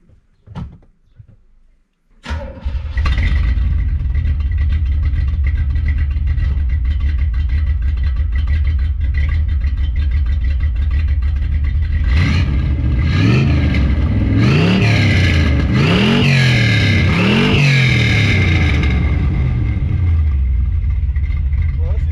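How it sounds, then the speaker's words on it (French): A Corvette C3 V8 engine cranks and catches after a brief stir, then idles with a deep, loud, steady rumble. Later it revs repeatedly in rising and falling surges before settling again. "juste pour vous entendre un peu le magnifique son de cette magnifique Corvette C3"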